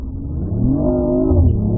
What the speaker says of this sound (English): it has a 3-cylinder engine back there, right?